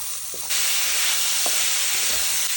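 Potatoes tipped into oil with roasted spices such as red chili and turmeric set off a sudden loud, steady sizzle. The sizzle continues with faint stirring knocks beneath it.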